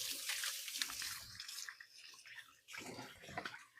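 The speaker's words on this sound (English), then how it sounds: "I'm going to wash my hands real quick" A kitchen tap runs unevenly while hands are washed, the water sound fading and surging with the movement of the hands, fairly quiet and with no voices.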